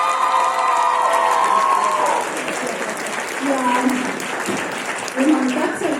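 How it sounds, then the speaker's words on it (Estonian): Big audience applause with cheering at a school movement festival organised by students, sustained clapping and shouts from a large crowd, with voices calling out over it. "Nii et suur aplaus"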